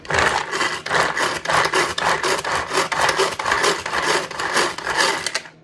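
A pull-cord food chopper chopping hot pepper: rapid, regular whirring pulls with rattling, close and loud, each pull rising and falling in quick succession.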